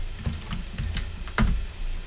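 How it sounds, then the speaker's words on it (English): Keys clatter on a computer keyboard in a quick, uneven run of close taps, with one sharper keystroke near the middle and no voices. "So we're going to type in include :main items."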